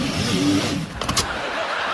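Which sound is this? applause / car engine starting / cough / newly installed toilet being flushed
car engine starting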